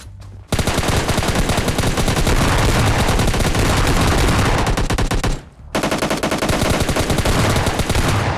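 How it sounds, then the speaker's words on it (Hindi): MK14 rifle firing in the mobile game PUBG Mobile, loud, rapid, sustained bursts of gunfire with a brief gap partway through, sharp and close without speech. "इनमें से एक बंदे के पास MK14 होती है, शायद आपको आवाज भी आ चुकी होगी"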